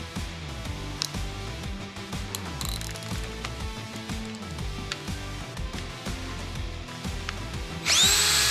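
A power drill whirs steadily with motor pitch shifting up and down, ending in a brighter, harsher burst of grinding near the end.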